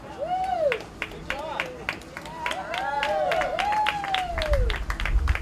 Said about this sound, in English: Tommy received a rousing round of applause